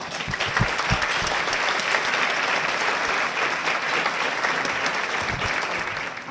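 A studio audience at a talk show applauds steadily and loudly to welcome a guest, dense clapping that holds for several seconds before easing slightly at the end.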